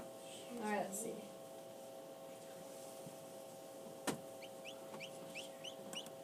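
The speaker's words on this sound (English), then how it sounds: "Polished crested chicken." A Polish crested chicken clucks among hatching chicks indoors, a few soft clucks and chirps over a steady mechanical hum, with a brief sharp click partway through.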